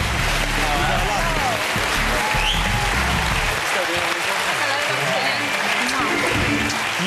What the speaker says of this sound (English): please give a warm round of applause for the couple of the year, Jordan and Peter Andre